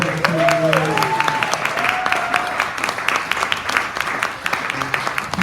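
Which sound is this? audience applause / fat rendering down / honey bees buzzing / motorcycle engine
audience applause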